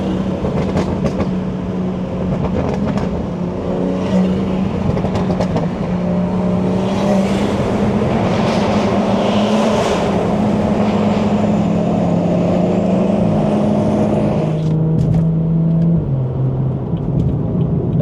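The B58 engine of a BMW 340i drones loudly and steadily through its intake on a highway drive, with a constant roar and no talking.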